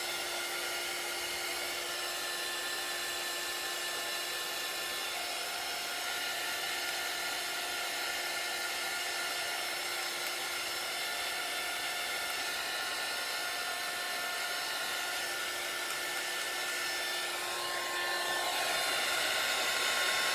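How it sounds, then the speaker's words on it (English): Craft heat tool blowing hot air, a steady loud broadband whoosh with a thin whine running unbroken throughout, swelling slightly near the end, with no talking. "I know the newer heat tools don't make as much noise"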